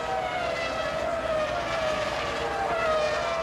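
Formula 1 cars at the 2002 European Grand Prix, led by the two Ferraris, making a continuous high engine whine that stays steady and fairly loud, heard from trackside without any voices.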